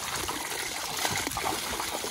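Water pours steadily from the outlet of a 1000W solar-powered submersible pump, a continuous close trickling and splashing flow with no talk over it.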